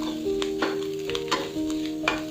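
Asafoetida dropped into hot oil for a mustard-seed okra stir-fry, a short close sizzle broken by several sharp spoon scrapes and taps against the pan, with a faint steady hum beneath.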